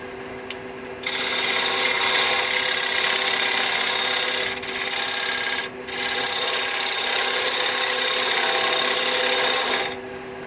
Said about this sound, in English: I just put a fresh edge on my 3/8 inch Ellsworth type gouge. If I'm getting that, I'm getting a cut.